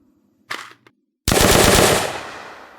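A weapon reload in an Unreal Engine zombies shooter game: two quick mechanical clicks, then a loud burst of sustained rapid gunfire that slowly fades, with no talking.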